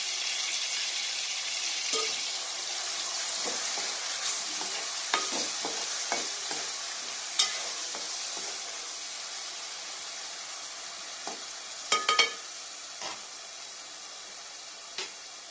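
Ground masala paste and slit green chillies fry in hot oil for a country chicken curry, giving a steady close sizzle with scattered clinks and scrapes of a stirring spoon and no talking.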